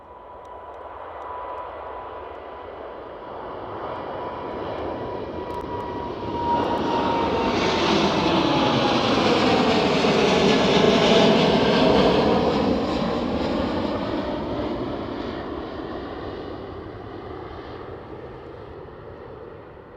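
An airliner aborts its landing at Amsterdam Schiphol airport and climbs away, the engine roar swelling to a loud peak midway and then gradually fading, with no voices over it.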